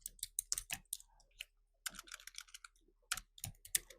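Bursts of computer-keyboard typing as a name is entered, quick clustered keystrokes in several runs with short pauses, close and clear with no speech.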